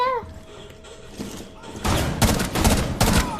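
A grenade goes off in a shooter video game: a rapid cluster of loud, harsh blasts and crackling impacts bursts out after a quieter stretch of low rumble and faint game tones.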